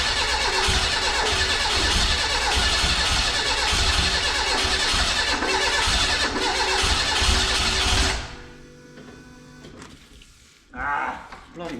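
A Renault 5 GT Turbo engine, just back together after a head gasket repair, runs loud and rough close by for about eight seconds, then cuts out, leaving quiet with a brief later rustle.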